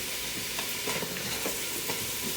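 Vegetables sizzle loudly in a pan holding browned oxtail residue, a dense, constant frying hiss broken by a few scraping stirs, close and with no talk.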